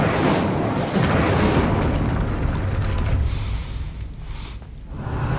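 Incendio fire spell from the video game Hogwarts Legacy, a sustained roaring blast of flame filling the mix loudly, tapering briefly before swelling again.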